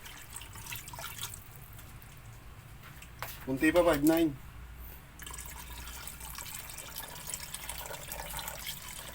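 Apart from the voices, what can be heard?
pouring water into homemade sardines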